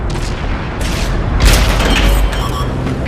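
A tank cannon firing in World of Tanks, a heavy deep boom with rumbling low-end weight and a mechanical rattle, loud and close over constant engine drone and battle noise.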